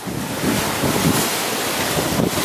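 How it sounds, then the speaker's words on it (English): Ocean waves roll past a sailboat under sail in the Caribbean near St. Vincent, a loud, continuous wash of surf and rushing wind buffeting the microphone. "And just watching these waves roll by."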